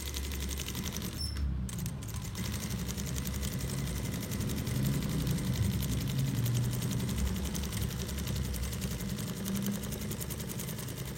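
A sewing machine stitches a spiral mosquito-coil pattern with a fast, even mechanical chatter that runs almost the whole time, dipping briefly near the start before carrying on steadily.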